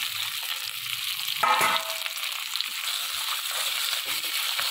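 Tomato, onion, green chili, mint and coriander fry in hot oil with a steady broadband sizzle, and a brief louder burst of spattering comes partway through. No one speaks.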